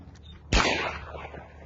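A single sharp blast from a 20 gauge shotgun fired outdoors, loud and close, with a short decaying tail after the report.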